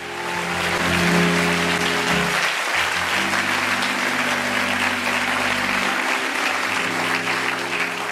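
A church congregation applauds and cheers loudly. The dense clapping is mixed with crowd voices and music and stays strong and sustained throughout.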